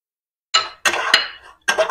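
Cashews and raisins are stirred into browned semolina halwa in a pan, giving short bursts of metallic clinks and scraping from the spoon against the pan, separated by brief pauses, close and fairly loud.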